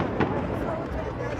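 Fourth of July fireworks booming in a noisy outdoor rumble, with one sharper crack near the start and a continuous low roar of bursts behind it, loud and close.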